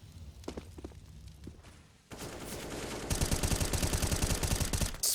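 Rapid bursts of automatic gunfire from an online esports shooter match at an international cup tournament, starting after a quieter stretch of thuds and steps and then sprayed loud and dense for the final seconds.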